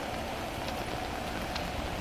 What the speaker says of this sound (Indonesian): Aduh, kok hujan?